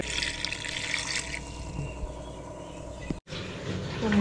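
Water is poured into a cooking pot for crab gravy, running steadily with a broad hissing rush, briefly cutting out for an instant before continuing, close by with no talking.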